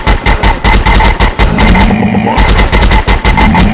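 Video game gunfire rattles in rapid, loud automatic bursts, with dense, closely spaced shots filling nearly the whole stretch and only brief gaps between volleys.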